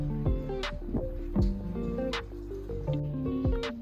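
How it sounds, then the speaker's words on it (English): A damp beauty blender makeup sponge is squeezed, giving a few soft wet squelches and drips over faint steady tones, with no speech. "squeeze all the water out of the beauty blender"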